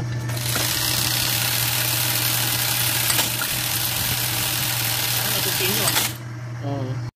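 A Juki 780 buttonhole sewing machine running loudly during a home service repair, its blade striking hard in a steady, fast mechanical hammering that fills the space close up, then cuts off near the end.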